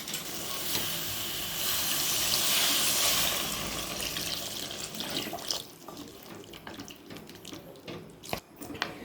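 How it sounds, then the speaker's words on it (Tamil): Water pours in a loud, rushing stream into a cooking pot of tamarind-free citron (narthangai) kuzhambu with sambar powder, then thins into scattered drips and clinks as the pour ends. "இப்போ இதோட ஒரு 4 டம்ளர் நம்ம தண்ணி சேர்த்துடலாம்."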